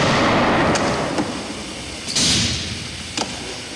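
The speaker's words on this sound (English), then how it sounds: "that causes a spark and the gas explodes" A special effects woofer filled with propane ignites into a fireball on a fire-drama set. A loud, broad roaring rush swells in the middle of continuous heavy noise, with a few sharp cracks around it.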